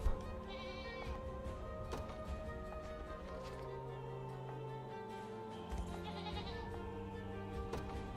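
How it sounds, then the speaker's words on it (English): Goats bleat repeatedly in the Unicorn Overlord video game, several wavering calls rising over a steady game ambience with soft hoof-like clopping, no voices. "Goats."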